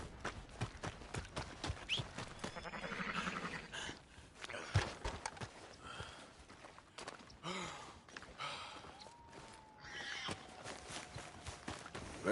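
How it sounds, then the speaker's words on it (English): Horse hooves clatter and a whinny rings out in the video game Red Dead Redemption 2, busy and uneven, mixed with snorts and other game noises at moderate loudness. "Damn that horse."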